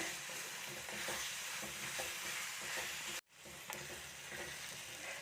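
Chopped tomatoes sautéing in a hot pan for a Kerala-style fish curry give a steady close sizzle with scraping stirs, a brief cut to silence, then the frying resumes.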